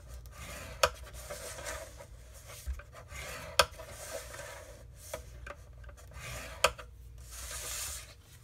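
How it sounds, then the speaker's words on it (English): Paper being scored with a tool along 1-inch lines for an Easter treat box, a soft rubbing, rasping scrape with several sharp clicks or taps between strokes, close and fairly quiet. "We're going to score this at 1 inch all the way around."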